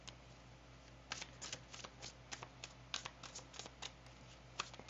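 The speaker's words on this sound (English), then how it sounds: "I'm going to pull some more cards for some advice on this" Tarot cards being shuffled by hand, a quick run of crisp riffling bursts and soft slaps, close and fairly quiet over a low steady hum, with no talking.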